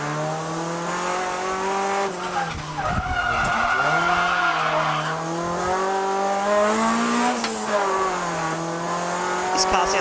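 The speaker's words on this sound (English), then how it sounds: "This car sounds cool." A Honda Prelude engine revs steadily while tires squeal and skid drifting a mountain pass, the pitch sliding up and down as the car slides through turns, loud and close.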